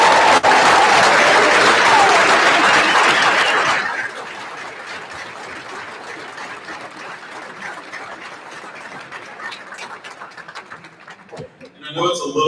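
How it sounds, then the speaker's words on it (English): Applause for honored seniors at a college honors day ceremony, a loud dense burst of clapping from the audience that fades after a few seconds into quieter room noise, with a brief swell near the end. "Please join me in a round of applause for these outstanding"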